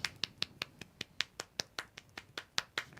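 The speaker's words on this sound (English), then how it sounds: "Have you never seen a golf clap is this" A demonstrated golf clap: a steady run of about sixteen light, crisp hand claps at an even pace, close and fairly quiet, with no talking over them.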